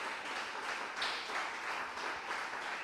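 Church congregation applauds during a sermon, a faint, steady patter of many hands that sounds somewhat distant and low in level.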